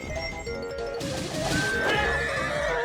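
Several horses neigh and whinny loudly in Zelda: Tears of the Kingdom, with clip-clopping and crashing impacts mixed in.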